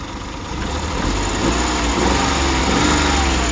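An engine idles steadily, loud and close, with a rough, breathy hiss from worn piston rings letting blow-by escape through the breather under a constant low rumble.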